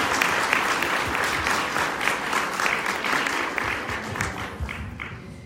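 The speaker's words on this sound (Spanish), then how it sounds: "Les pido por favor un fuerte aplauso para recibir a la maestra Elisa Guerra" An audience gives strong applause to welcome a teacher onto the stage at a presentation, dense clapping that gradually thins and fades toward the end.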